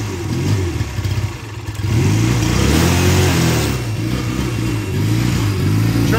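A loud engine with sluggish throttle response runs close by at a Startfest engine-start event. It idles roughly with clattering, then revs up and holds a wavering, uneven roar that rises and dips. No one speaks.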